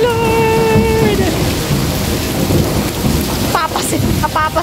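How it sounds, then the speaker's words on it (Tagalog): Heavy rain pours steadily at Mandai Bird Paradise in Singapore while thunder rumbles low and continuous beneath it, loud and close, with a brief voice-like tone at the start. "Lakas ng ulan."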